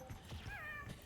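A cartoonish cat meows in a team-based video game during an esports match, a short rising-and-falling call heard amid game effects and background noise.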